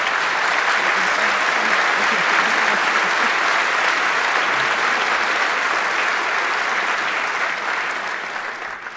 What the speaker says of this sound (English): Round of applause for Fobs and Sky T.